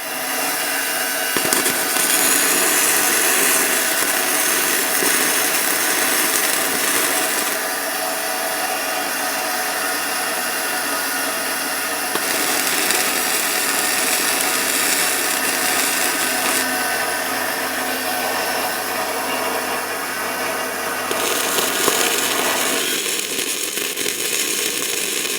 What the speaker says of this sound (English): I'm going to get back to welding this while he's cutting